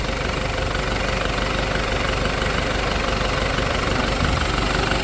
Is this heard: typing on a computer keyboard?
no